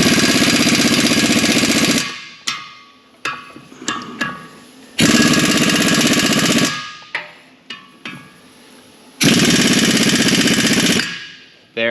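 An impact wrench snugs the knife bolts on a Vermeer BC 1500 wood chipper, firing three long, loud rattling bursts up close, separated by short stuttering blips.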